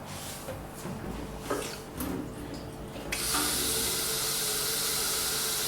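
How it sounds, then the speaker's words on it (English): Water rushes steadily into a kettle, starting about halfway through after a few faint clinks and handling knocks, then holding as a constant close hiss to the end. "grab yourself some water, fill up a kettle."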